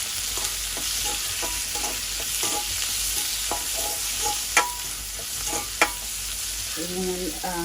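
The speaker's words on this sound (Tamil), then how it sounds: "கருவேப்பிலை பச்சை மிளகாய் எல்லாம் போட்டு நல்லா வதக்கம் வதக்கிடலாம்" Curry leaves and green chillies sauté in hot oil, a steady close sizzle with soft stirring scrapes and a couple of sharper pops or taps against the pan.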